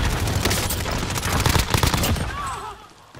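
Rapid bursts of automatic gunfire in the battle-royale game Warzone fill most of the stretch, loud and dense, then thin out near the end as a voice speaks over it.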